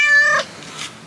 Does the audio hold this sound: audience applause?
no